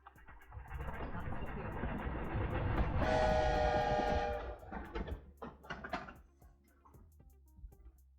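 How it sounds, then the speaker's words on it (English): A train in the video game Hogwarts Legacy rumbles past, swelling to a loud roar and sounding a sustained whistle mid-pass. The noise then fades into clattering wheels and a voice talking. "Train coming through."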